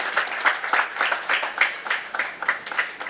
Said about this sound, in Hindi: एक बार फिर हम जोर से ताली बजाएंगे